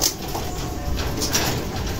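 A racing pigeon coos softly in a loft, low throaty murmurs repeating under a steady background hum, close and fairly quiet.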